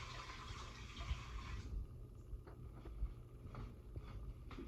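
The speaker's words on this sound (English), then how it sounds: "I'm going to put 2 cups of water." Filtered water poured into a cooker pot for oat porridge, a steady close splashing gush with deep low rumble running throughout and a few brief knocks.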